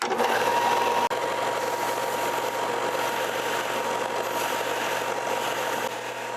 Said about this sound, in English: now it's time to get on the sander here and shape this down to these contour lines that I did